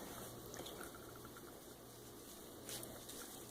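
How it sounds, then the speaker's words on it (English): Wet patting and dabbing as water is worked onto wool wrapped around a bar of soap in a bowl, a soft, steady liquid texture throughout with a faint continuous hum beneath. "We're just going to pat some water on here"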